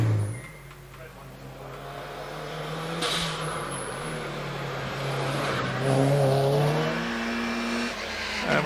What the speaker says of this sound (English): we see Piers Thin in his Mini Cooper 1293cc machine going around Torres at the moment